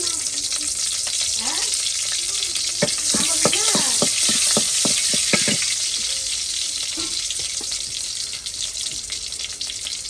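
Chopped onion fries in hot oil in a cooking pot for greens, with a steady, bright sizzle and a quick run of stirring scrapes and clatter near the middle.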